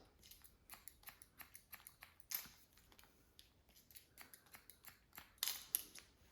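Scissors snip repeatedly while point cutting hair in a textured pixie cut, producing quick crisp clicks in an uneven rhythm, close and quiet, with a couple of sharper louder snips.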